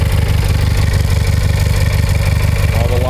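A Simplicity Sunstar 20 garden tractor with loader runs close by, its engine and hydraulic pump making a loud, steady low drone with constant rhythmic throb throughout.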